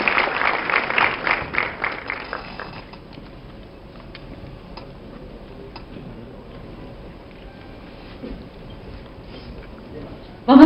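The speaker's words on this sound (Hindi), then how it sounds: "तो जोरदार तालियां हो जाए." An audience claps in a steady rhythmic beat for about three seconds to welcome Sanjay Raut, then the room settles into a quiet hum with a few faint scattered sounds.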